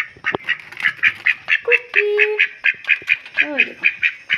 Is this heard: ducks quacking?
yes